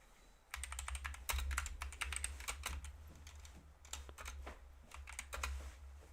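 Someone types on a computer keyboard to log a futures trade, producing quick, close clicks in irregular bursts over a low steady hum, with no talk.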